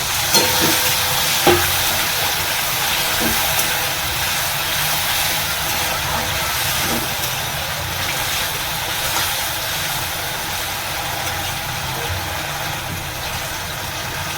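Potatoes frying in a pan for aloo posto sizzle and hiss steadily after about half a cup of water is added, with occasional stirring scrapes, loud and close throughout.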